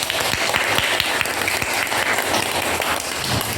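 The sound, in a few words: classroom applause for a student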